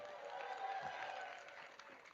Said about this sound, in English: How about a round of applause for Marie?